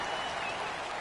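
Stadium crowd roaring in an American football video game on PS4, a steady, dense wash of cheering and applause-like noise filling the moment as the home crowd drowns out the offensive line's snap count.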